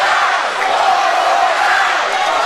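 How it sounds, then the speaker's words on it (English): A wrestling crowd at a Texas wrestling event in Canton roars and cheers steadily and loudly throughout, with whoops and shouts rising from a dense mass of voices and no clear speech on top. "Listen to this crowd."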